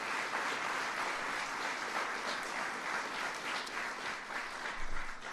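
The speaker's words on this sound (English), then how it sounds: "we very much want to give him a big round of applause." Sustained applause from a sizeable crowd at a police awards ceremony, a dense wash of clapping that holds steady throughout without voices.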